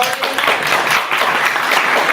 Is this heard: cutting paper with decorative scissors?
no